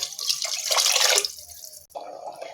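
Water poured into a pot of rice for mutton biryani, a loud rushing splash that stops after about a second and is followed by quieter trickling and bubbling, with no talking.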